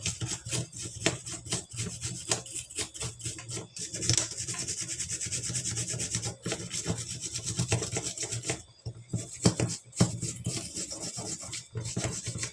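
Brush scrubbing rust off an electric fan switch, a continuous rapid scratchy rubbing close up that keeps going with brief pauses, with no talking.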